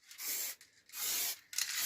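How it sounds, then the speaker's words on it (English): Varnish sprayed from a can onto the side walls of a router-cut wooden inlay project, three hissing bursts separated by short pauses, close and fairly loud. "the general idea is just to spray it like so"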